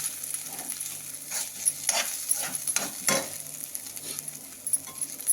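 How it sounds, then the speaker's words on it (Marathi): Ground dal and fresh grated coconut are sautéed in a pan, giving a soft, steady sizzle broken by light stirring scrapes and taps of the spoon. No one speaks. "हे डाळवं आणि ओलं खोबरं आपण मिक्सरमधून काढून घेतलेलं, ते पण आपण थोडंसं परतून घेऊ."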